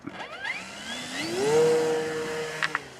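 Electric motor of an E-flite Super Timber RC plane winding up to full throttle for a takeoff with full flaps, a rising whine that settles into a steady loud drone.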